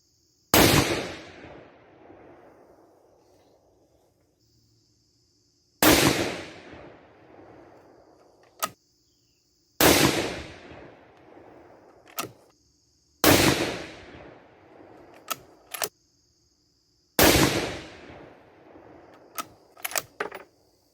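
Five sharp, loud gunshots from a Mossberg Patriot Predator 6.5 Creedmoor rifle with a 22-inch barrel, spaced a few seconds apart, each followed by a decaying echo, with a few faint clicks between shots.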